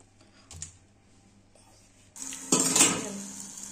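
A utensil clinks and scrapes against a pot while spices are mixed in, quiet at first, then louder, busier metallic stirring toward the end.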